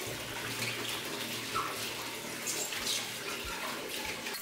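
Water sprays and splashes steadily over a Crompton Optimus 100-litre desert air cooler as it is washed, a continuous rushing hiss with occasional splatter and thuds, close and fairly loud.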